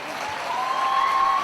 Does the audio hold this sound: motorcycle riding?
no